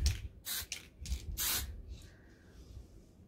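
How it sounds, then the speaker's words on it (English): Short hissing bursts from a spray paint can aimed at a sewing machine being refinished, four or five quick close sprays followed by a fainter tail of hiss. "the first place I'm going to spray"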